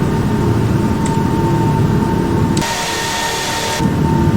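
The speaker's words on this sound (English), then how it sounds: "It's kind of a louder jet" Airbus A380 jet engines in Microsoft Flight Simulator X, a loud steady droning whine with a harsher, brighter hiss surging in partway through, then fading back.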